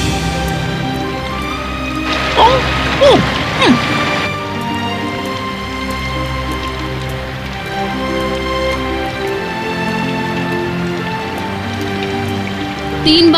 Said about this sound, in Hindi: अभी बारिश होने देते हैं